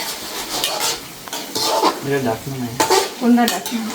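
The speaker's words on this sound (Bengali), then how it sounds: "আর হচ্ছে শাক রান্না করছি এটা ফার্স্টেই রান্না করছি" Leafy greens are cooked in a pot, with a spoon stirring and scraping against the metal and a soft sizzle underneath, heard up close without talk.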